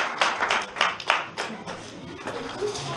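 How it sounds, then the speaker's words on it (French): Audience in a church clapping, a brief scattered round of hand claps with uneven rhythm that thins out, with a voice faintly mixed in. "applaudissez pour elle"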